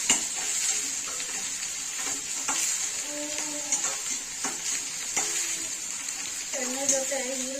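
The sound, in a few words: chopped onions frying in oil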